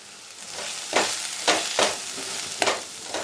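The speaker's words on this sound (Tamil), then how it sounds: "இப்போ அடுத்தது மசாலா சேர்த்துடலாம். மிளகாய்த்தூள், மல்லித்தூள்," Masala with chili and coriander powder sautéing for Tamil crab thokku: a close, steady frying hiss broken by rhythmic scraping stirs about every half second.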